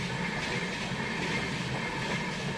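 A train rolls past at a railway crossing on a ride from Hyderabad toward Vijayawada, a steady, fairly distant rumble and rattle of wagons with faint clatter, continuous and without breaks.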